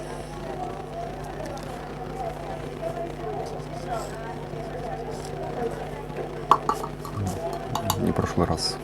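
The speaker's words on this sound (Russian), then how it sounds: "Это шум кафе." Cafe ambience playing from a computer: a low murmur of background chatter with clinking dishes and cutlery, light clatter building toward the end.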